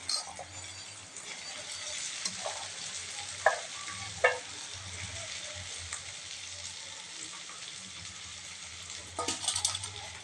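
Chopped carrots and capsicum sizzle in a pan over lightly fried onion and tomato for masala oats, a steady hiss broken by a few clinks and scrapes of stirring, with no voices.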